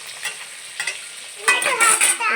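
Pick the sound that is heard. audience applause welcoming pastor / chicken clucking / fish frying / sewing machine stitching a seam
fish frying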